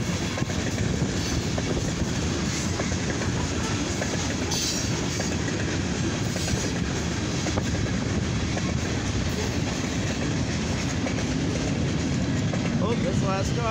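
A long mixed freight and steel train heading eastbound rolls past up close, a continuous heavy rumble with rhythmic clacking wheels and occasional squeals throughout.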